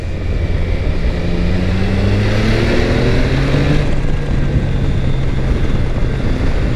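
A Triumph Tiger Sport 660 motorcycle's engine roars steadily while riding through curves, a loud continuous drone with pitch sliding up and down under rushing wind.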